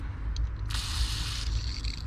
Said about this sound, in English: You want to spray it down.